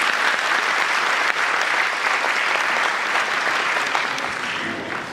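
A crowd claps steadily and fairly loudly for several seconds, a dense, continuous applause that tapers slightly toward the end.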